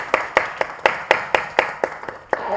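Audience at a cancer patients' aid association press conference clapping, a thin run of about ten distinct, evenly spaced claps, moderately close.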